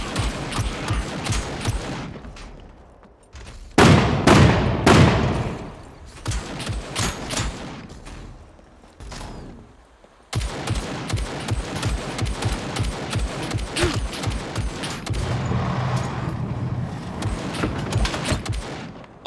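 Gunfire in the survival game Scum, repeated bursts of sharp shots in rapid clusters, some loud and close, others fainter, with pauses between volleys.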